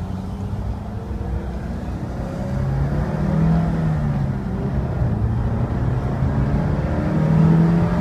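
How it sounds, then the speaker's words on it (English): A 2006 Pontiac Solstice with a 5-speed manual pulls out and drives off, its engine a low steady hum that rises slightly as it accelerates, heard from inside the car with no talk. "I'm going to try to pull out here and drive it and shift"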